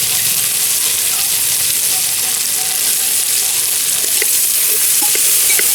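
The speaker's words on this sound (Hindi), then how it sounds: "मसाले को अच्छे से हम मिलाएंगे।" Turmeric and garam masala being stirred into a hot frying pan for a mixed-vegetable tahri, a steady close sizzle with scraping stir strokes, no talking.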